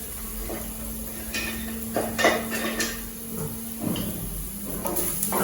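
A wooden spoon scrapes and knocks against a pan while broccoli is stir-fried. Irregular clatters and scrapes come over a constant hiss of cooking, moderately close and with no talking.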